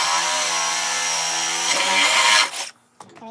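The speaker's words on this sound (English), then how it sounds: "I'm going to take my 3/8 bit and just drill that through" A power drill with a 3/8 inch bit whines steadily at high speed through a balcony railing, pitch shifting as the bit bites through, then winds down abruptly and stops, followed by a brief quieter buzz.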